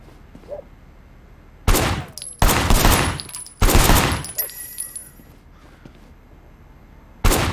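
Gunfire in the video game Sleeping Dogs, several loud, close bursts of rapid shots separated by short lulls, with ringing tails and debris clatter between volleys.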